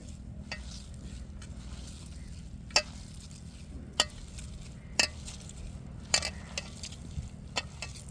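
Flaked fish being stirred into stone-ground masala in a pan, a soft steady sizzle under scattered sharp clinks of a spoon against the metal, no talking.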